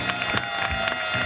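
A studio audience on a Bolivian game show applauds a contestant, steady clapping with light cheering over a background music bed.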